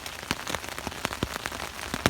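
Steady rain patters on a surface, with irregular heavier drops tapping close by amid a constant hiss.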